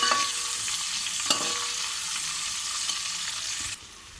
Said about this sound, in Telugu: ఆనియన్స్ వేసుకుంటున్నాము.